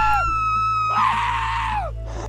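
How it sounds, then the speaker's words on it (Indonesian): A gorilla and a boy from a film scream in surprise, two long loud overlapping shrieks that trail off, with music underneath. "si Mandon dan si Stubbins saling kaget dan berteriak guys"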